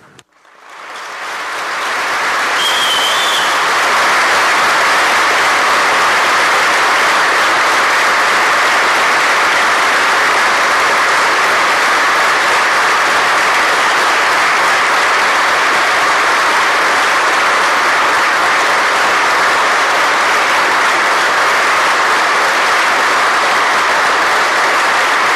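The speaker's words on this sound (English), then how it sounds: "we're going to stand up and we're going to give him a moment of applause" Sustained applause fills the New York State Senate chamber, swelling within seconds into a loud, steady wash of clapping from many people that holds unbroken for over twenty seconds.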